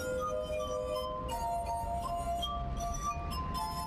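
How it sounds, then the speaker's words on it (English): Glass harp played with rubbed wine glasses, sustained pure ringing tones shifting between several pitches in a gentle melodic line, moderately close over a low background hum. "my instrument is called the glass harp"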